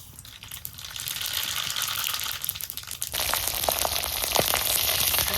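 Spices crackle and sizzle in hot oil as they are tempered for sour greens, starting as a soft simmer and then jumping into a louder, busier spatter partway through, with no talking.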